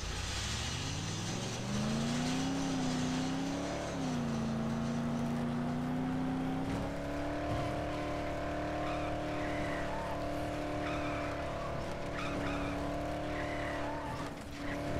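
A car in the Dead Island video game revs and skids, engine tone rising and holding steady while tires squeal over a continuous loud drone, with no talk.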